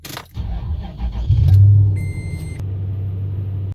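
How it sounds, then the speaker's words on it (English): A pickup truck engine restarts after its battery terminals were cleaned: a short crank catches into a loud rumble that settles to a steady idle, with a high electronic tone briefly sounding. "I'm going to try turning it off and then turning it back on, and hopefully it will turn on a lot quicker this time."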